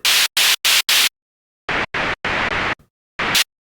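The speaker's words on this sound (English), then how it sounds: "It's different types of noise that seem to be based off of ring modulating off some of this." Omnisphere synth noise patches built from ring modulation, bursts of loud broadband static-like noise in short separate blocks: four quick bursts, then a pause, then several longer bursts and a final short one.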